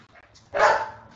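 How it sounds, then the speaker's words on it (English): A short burst of puppy barking rises out of quiet background, a single loud yappy bark or two, close by. "Oh, they're barking."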